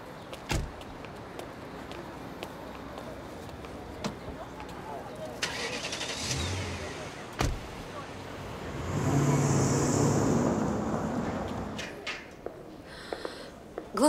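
A car engine cranks and starts, with door and window sounds around it, then a swell of engine noise as it pulls away mid-clip; faint and under background, with sporadic clicks and knocks.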